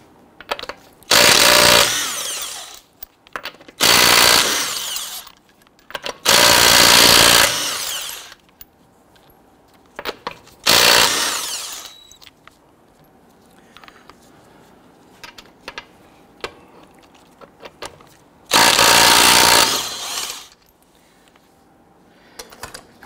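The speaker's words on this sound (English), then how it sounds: "Using a 21mm socket, we're going to loosen and remove the lug nuts." An impact-style power tool loosens and removes wheel lug nuts on a Toyota RAV4 with a 21mm socket, five loud whirring bursts of one to three seconds separated by quiet pauses.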